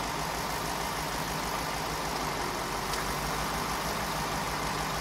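A 1990 Corvette ZR-1 with its LT5 engine idles in a steady, even rumble with a broad hiss on top, constant and close throughout with no change in speed.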